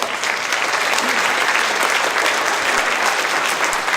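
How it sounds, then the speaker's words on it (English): Dense, steady applause from an audience at a rodeo royal court event, loud and continuous throughout with no pauses. "a round of applause to the rodeo board"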